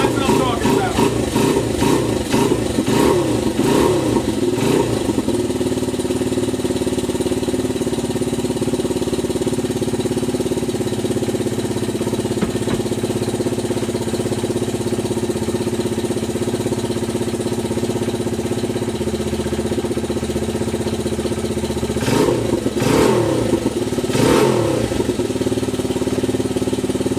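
A Honda XR/CRF dirt bike engine running after a carburetor clean, steady idle with throttle blips at the start and end, close and fairly loud, with someone talking over it.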